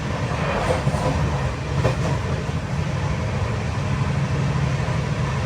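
The Vivek Express, running from Kanniyakumari to Dibrugarh, travels at roughly 130 km/h past farm fields in Bengal, giving a loud, continuous, close rumble and rattle of wheels on rails that holds steady throughout.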